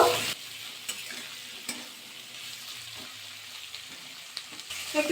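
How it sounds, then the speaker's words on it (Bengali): Potato, carrot and radish frying in a pan, stirred with a spatula that scrapes and knocks against the metal at irregular intervals over a steady close sizzle. "প্রথমে দেবো আলু তারপরে গাজর তারপরে অ্যাড করে দেবো মূলো এবার একটু নাড়াচাড়া করে নেবো"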